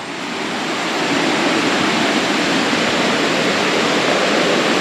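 Small river stream at a campsite on a farm in Tanjung Malim flows steadily, a dense, continuous rush of water that swells slightly in the first second and then holds loud and close with no voices.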